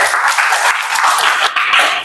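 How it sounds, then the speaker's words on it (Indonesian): Classroom audience applauding a student group after their presentation, steady dense clapping from many hands filling the whole stretch, close and fairly loud with no talk over it. "silakan kasih tepuk tangan dulu untuk kelompok"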